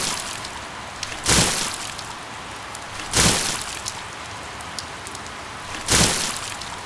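Heavy rain falls steadily at night in an animated rural scene, a constant hiss broken by three loud, evenly spaced bursts of splashing downpour.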